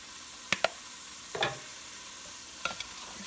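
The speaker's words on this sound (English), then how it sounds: "So we're going to stir that around." Italian seasoning is stirred into a pot of white chicken chili over a steady sizzle, with a few sharp spoon scrapes and clinks against the pot in short clusters, close and fairly quiet.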